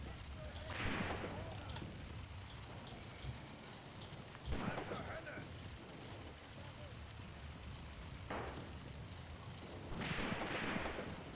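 Mortar fire in the WWII tactical war game Graviteam Tactics: scattered distant booms and crumps land every few seconds amid a constant rumbling battlefield din, with someone talking faintly underneath.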